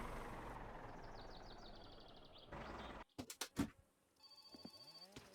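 Telephone in the My Summer Car video game ringing, a trilling electronic ring heard briefly early on, then sharp clatter and tonal game sounds follow in a quiet room.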